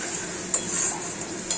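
Spice masala with potatoes sizzles in a pan for pabda fish curry while a spoon stirs and scrapes against the metal, two sharp clinks over a steady close frying hiss.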